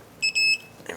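A digital torque wrench gives two short high beeps, the second longer, as caliper bracket bolts on a 2003-2012 Chevy Colorado front hub are tightened to 129 foot-pounds, followed by a faint click.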